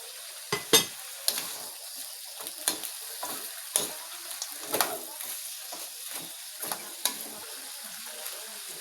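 Native chicken adobo with liver sizzles and fries in a pan, with a steady frying hiss broken by repeated scraping stirs of a utensil at a loose, irregular rhythm, close and fairly quiet.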